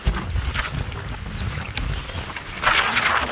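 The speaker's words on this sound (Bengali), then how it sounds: "নৌকা ছুটছে" Fishing boat running at sea on a windy day, a low rumbling engine and water slapping the hull under gusty wind noise, close and steady.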